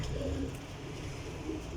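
A Rampuri pigeon gives a soft, brief low coo, heard close but quiet against faint background noise.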